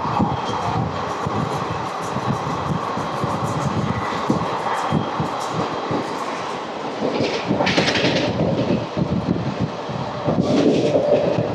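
The 17644 Circar Express passenger train runs at speed past Kadiyam station, heard from on board as a loud, steady rumble of wheels on rails with rattling carriages, and no one talking.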